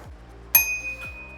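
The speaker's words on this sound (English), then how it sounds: "We almost forgot to attach our bell." A single bright, ringing ding from the bicycle bell on a Vivi ACE 07 e-bike, faint and quick, fading over about a second in a quiet room.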